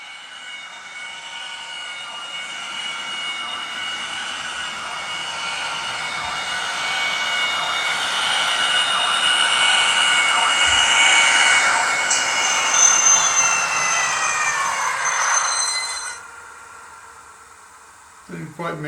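Hornby model electric locomotive with a sound decoder fitted, running on a third-rail layout, giving a steady electric motor hum and whine that swells and fades over many seconds, fairly close and alone.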